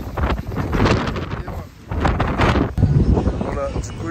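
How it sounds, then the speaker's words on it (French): Strong desert wind buffets a microphone with a loud, rumbling roar that surges and drops in gusts, briefly easing before slamming back in. "Il y a du vent à mort. Le vent du désert"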